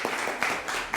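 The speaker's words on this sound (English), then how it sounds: "Big applause" Audience applause at a sanitation meeting in Stockholm, a brief burst of a few distinct claps in an irregular rhythm, moderately loud and heard alone.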